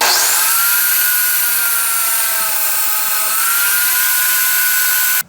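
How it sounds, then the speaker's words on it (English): A table saw fitted with a miter gauge set to 90 degrees cuts off the sides of a wood board. The high, steady whine sounds close and loud and stops abruptly at the end. "So now I need to set my miter gauge back to 90 degrees and run it through to cut off these two sides."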